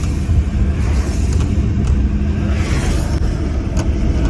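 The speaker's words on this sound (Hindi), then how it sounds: "अभी इतना ज़्यादा ट्रैफिक है ना, बहुत ज़्यादा ट्रैफिक है" Heavy road traffic on a rainy day makes a steady, loud engine rumble and tyre drone throughout, with no break and no voices.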